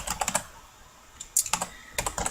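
Typing on a computer keyboard, with quick bursts of crisp key clicks separated by brief pauses, close and fairly quiet.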